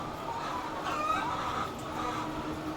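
Chickens cluck softly on a Filipino poultry farm, a dense background of overlapping bird calls under a steady noisy hiss, with no voices.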